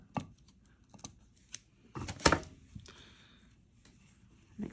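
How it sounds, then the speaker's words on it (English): Material for a handmade teacher pencil sign is cut off with a few sharp snips, a couple of isolated clicks followed by a louder crunchy cut near the middle, close and quiet with no speech. "I'm gonna go ahead and cut this off."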